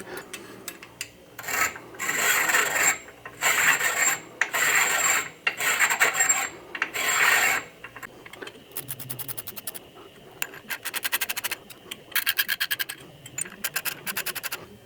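Piston ring ends filed by hand to set the ring gap, a close metallic rasp in steady back-and-forth strokes, first in longer bursts, then in quick short scrapes.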